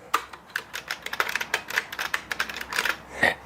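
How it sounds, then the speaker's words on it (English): Quick, uneven keystrokes on a 1992 PS2 keyboard with buckling spring switches, each press a sharp, crisp clack with a springy ring, typed close by with no talking. "If you listen carefully, those are buckling springs."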